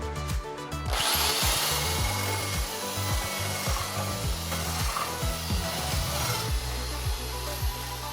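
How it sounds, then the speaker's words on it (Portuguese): Power drill widening a hole in wood for a steel rod on a floating kiosk build, a loud grinding whir with repeated bursts as the bit is worked in and out. "Eu vou ter que abrir um pouquinho o furo. Como eu disse, a broca ela é mais fina do que o tirante."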